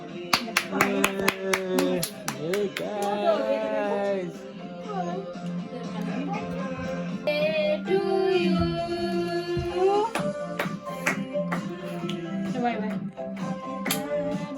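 Hands clap repeatedly at a family birthday surprise for a young girl, mixed with singing of happy birthday and chatter, the claps sharp and near but partly buried under voices and music.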